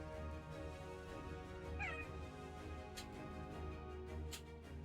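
A house cat gives a quiet, short meow, a brief rising-and-falling call against a low background hum, with faint clicks before and after.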